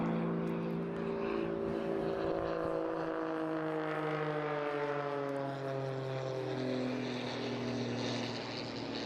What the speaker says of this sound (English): When you get up and close and personal to a pit, it really is a very, very small aircraft.